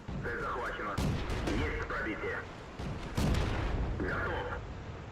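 Tank guns fire in World of Tanks during a T 127 premium light tank battle, a few heavy booms rising out of a dense, rumbling battle din.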